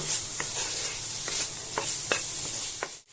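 Constant hiss of potatoes stir-frying with spices in a pan, broken by several scraping stirs of a spatula before it abruptly drops away at the end.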